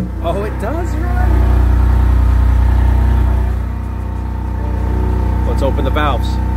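A turbocharged Honda S2000 engine fires up and settles into a loud, steady, deep running drone, with someone talking briefly over it at the start and end.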